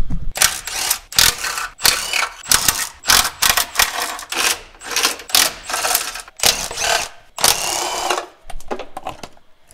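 On an engine oil pan, a power tool runs in repeated short whirring bursts, close and loud, each one backing out a screw from around the pan's edge with brief pauses between them.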